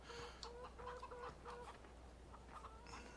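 Chickens clucking as they roam a farm in the Farming Simulator 17 video game, a series of short soft clucks and chirps repeating in quick bursts, faint, with no talking.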